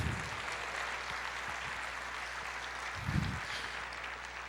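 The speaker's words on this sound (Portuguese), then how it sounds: "Pode aplaudir" A church congregation applauding, a dense, fairly distant patter of clapping in a reverberant hall, steady throughout with a slight swell partway.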